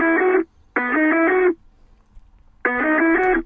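An instrument with its lows and highs removed by EQ, leaving a narrow, muffled midrange tone; three loud sustained phrases separated by short silences, with no talk.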